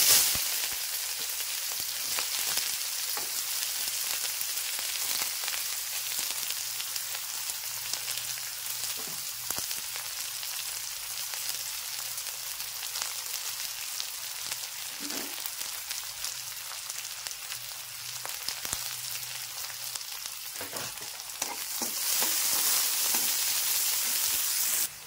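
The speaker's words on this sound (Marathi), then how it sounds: "कांदा चांगला तळून झालेला आहे." Onion fries in oil with mustard seeds and cumin for a Khandeshi-style brinjal bharit, a steady loud crackling sizzle like rain that continues unbroken, with a few faint stirring taps and no talk.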